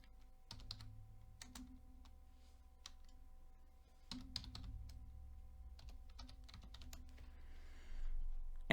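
Keystrokes clatter on a computer keyboard while coding a website's HTML image tag, two quick bursts of close, crisp typing separated by pauses, with no voices.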